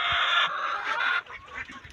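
Chickens being fed on a farm give a dense, close chorus of squawking clucks that fades into scattered softer calls.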